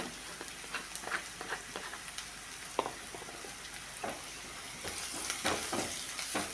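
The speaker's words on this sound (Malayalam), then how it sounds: "ഇനി ഇത് നമുക്ക് നന്നായിട്ടൊന്ന് വഴറ്റിയെടുക്കാം ലോ ഫ്ലെയിമിൽ വെച്ച് വഴറ്റിയെടുക്കണം" Fish curry masala sautéing in a pan over a low flame, a soft steady sizzle broken by repeated scraping stirs of a spoon. No voices are heard.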